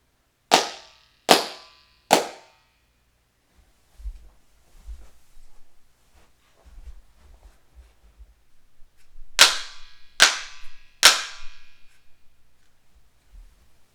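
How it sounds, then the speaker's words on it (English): Three sharp claps ring out with a bright, fluttery echo, a pause of faint rumbling, then three more claps echoing the same way in a bare, acoustically untreated home theater room. "It's kind of a twangy sound that just goes back and forth"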